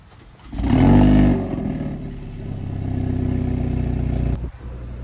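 A 2025 Hyundai Elantra N's twin-tip exhaust rumbles close by, rising into a loud rev, then holding a steady deep drone before cutting off abruptly.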